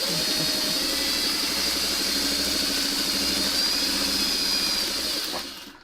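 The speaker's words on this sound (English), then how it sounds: "Now I'm just going to sew the rest of the 4-patch together." A sewing machine runs continuously while stitching a foundation paper-pieced quilt 4-patch block, giving a close, steady mechanical whir that stops abruptly at the end.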